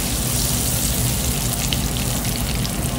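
Vegetables cooking in melted butter for red sauce pasta give a constant dense sizzle and crackle, close and even throughout with no talking.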